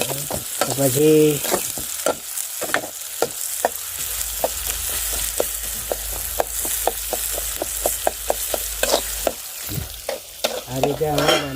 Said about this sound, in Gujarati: ડુંગળી શેકી નાખી.